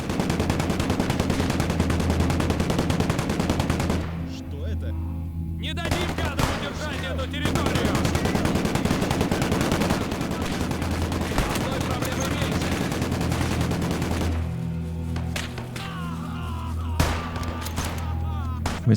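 Sustained gunfire from a Maxim machine gun and other weapons in the Eastern Front battle game Gates of Hell, a dense continuous barrage with brief lulls and faint voices beneath.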